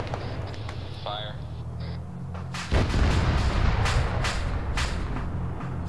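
A single heavy cannon shot booms partway through a game battle against armored vehicles, followed by a sustained rumbling roar; brief radio-style talk comes before the blast.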